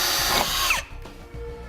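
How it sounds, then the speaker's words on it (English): A power drill bores a pilot hole with a 1/4 inch bit, likely into the steel frame of a 2016 Toyota Camry during a hitch install: a loud, steady whine for most of a second that cuts off abruptly, followed by quieter clatter. "I'm going to start out with a 1/4 inch drill bit"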